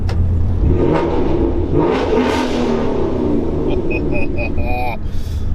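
A 2016 Ford Mustang GT with about 50,000 miles on it revs its engine beneath a bridge. The loud, close rumble swells and then settles while someone talks over it.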